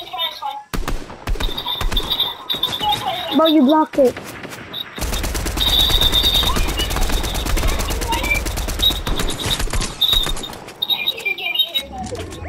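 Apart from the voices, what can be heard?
gunfire in the video game Fortnite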